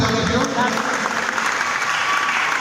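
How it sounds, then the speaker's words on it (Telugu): Applause from an audience at an award ceremony, a loud dense burst of clapping with a voice speaking over it. "give a big round of applause"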